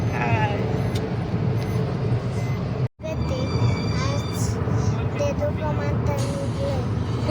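Car driven along a road early in the morning, a steady loud engine and road rumble filling the interior throughout, with a brief cut partway through and people talking inside the vehicle.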